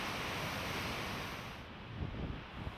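Yosemite Falls, a waterfall nearly 2,500 feet tall, roars in a loud, continuous broadband rush of water. The sound thins slightly toward the end, with a few soft thumps.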